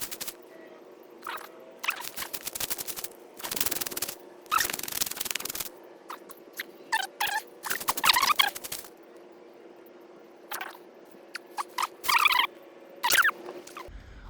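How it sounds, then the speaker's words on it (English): Squirrels squeak in the woods with repeated short, sharp bursts, mixed with rustling patter and a steady hum from a nearby RC crawler motor. "I think I'm literally chasing squirrels right now"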